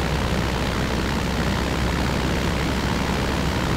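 Aircraft engine in the Aerofly FS2 flight simulator game during a loop, a loud, continuous broadband roar with a steady low rumble and no audible speech.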